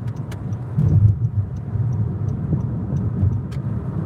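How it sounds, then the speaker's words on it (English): A car on a highway near Houston, Texas: a steady, moderately loud rumble of engine and tyre noise is heard from inside the moving vehicle, with traffic alongside and no talking. "there's a car coming up beside me. And then I'm gonna pass it."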